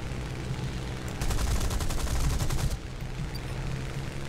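An Ostwind self-propelled anti-aircraft gun firing its cannon in War Thunder, a rapid burst of repeated shots lasting about a second and a half over steady engine rumble.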